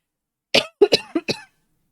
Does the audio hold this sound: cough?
yes